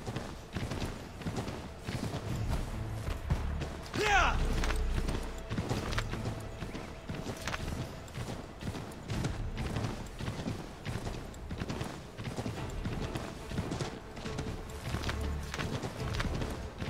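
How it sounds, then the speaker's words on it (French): Horse hooves clip-clop at a steady trot in Assassin's Creed III, with a brief whinny partway through, over a constant background bed of game ambience. "C'est le petit cheval de merde."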